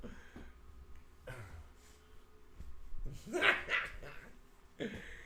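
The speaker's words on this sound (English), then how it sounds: "You big, hairy, smelly spaniel." A spaniel gives short, scattered barks and yips at close range, with soft whimpering sounds between them.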